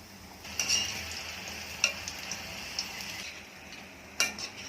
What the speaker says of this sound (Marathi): भजी काढून घेऊया आपण मीडियम साईजचे